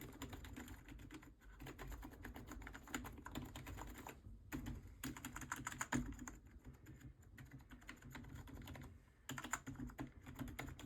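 Keys on a Claw's Nova K1 computer keyboard clatter in rapid bursts of typing, with brief pauses between runs, close and fairly loud.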